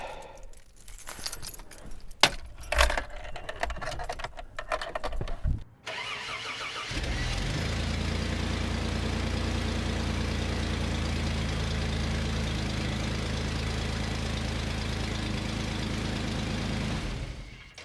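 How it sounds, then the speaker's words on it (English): Keys jangle and an engine cranks, then a car catches and settles into a steady, close mid-pitched idle that runs on without any talking. "we're gonna start the engine, see if the booster gives us anything"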